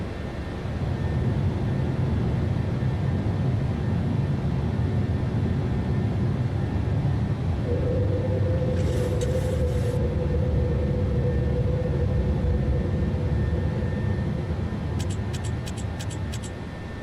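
A PMDG Boeing 737-800 climbs after takeoff in a flight simulator, with a loud, steady engine roar and a broadband rush, plus a sustained tone that enters midway and a few brief clicks near the end.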